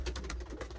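Pigeons cooing inside a wooden pigeon coop with nesting boxes, a low soft repeated coo close by over a steady background hum.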